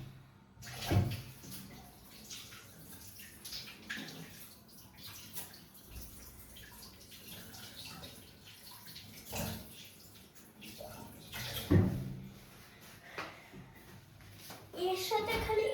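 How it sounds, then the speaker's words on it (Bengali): Hands are washed under running water after making a strawberry banana chocolate shake, with splashing and trickling in bursts, a few louder knocks and brief voices in between. "আমি একটু হাতটা ধুয়ে আসছি"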